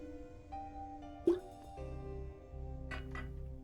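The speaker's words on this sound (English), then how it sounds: "My water bottle went doink." A water bottle gives a single short, hollow doink, close and fairly clear, set against quiet background game music with low rumbling tones.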